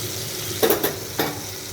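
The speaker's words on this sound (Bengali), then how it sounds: "এখানে একটু অল্প জল দিয়ে দিচ্ছি মশলাটা কষানোর জন্য" Spice masala frying in a pan after a little water is added, a soft continuous sizzle with a few brief bursts of hissing and stirring scrapes, close and moderate in level.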